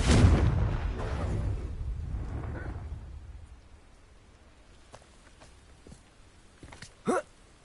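Spell blasts from Confringo and Bombarda go off in the Hogwarts Legacy video game, starting with a loud rumbling explosion that fades over about three seconds, followed by sparse sharp magical cracks and one brief bright zap near the end.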